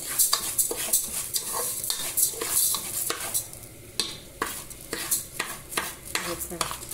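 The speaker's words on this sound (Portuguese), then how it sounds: "Vou estar mexendo aqui." A utensil scrapes and stirs sizzling food in a pan with garlic and carrot, making repeated rhythmic strokes and clinks against the pan over a steady frying hiss, close and fairly loud, with no talking.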